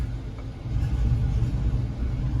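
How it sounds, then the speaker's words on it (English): A turbocharged LS V8 swapped into a Caravan idles at a low rpm, giving a quiet, steady low rumble with slight unevenness and no voices. "it is idling, it's just really quiet."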